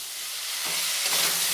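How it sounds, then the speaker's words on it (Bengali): Chicken frying with turmeric powder gives a soft hiss that swells into a brighter, louder sizzle midway, with no voices. "হলুদ গুঁড়ো, দিয়ে এই মাংসটা 5 মিনিট আমি ভালো করে ভেজে নেব।"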